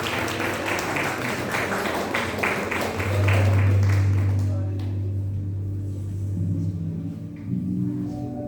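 Crowd applause at a Sunday church service fills the first few seconds, dense and steady, then fades out, leaving a low hum and murmur of a large room.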